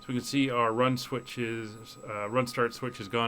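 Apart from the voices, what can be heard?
No everyday noise stands out behind the speech.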